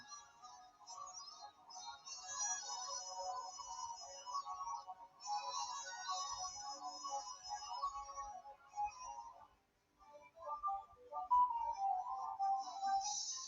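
A phone ringtone plays during a live Pokemon Sun and Moon viewer battle stream, a steady tonal melody with repeating harmonic notes running throughout, briefly pausing before resuming, fairly faint.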